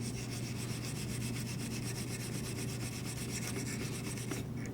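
Steel wool rubs back and forth across a metal surface in a steady, rhythmic scratchy hiss, close and continuous with even strokes and no speech.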